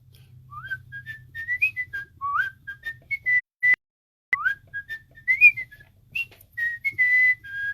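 A person whistles a bright melodic tune alone, phrase after phrase of clear sliding notes with brief gaps, fairly close and quiet, with a couple of sharp clicks partway through.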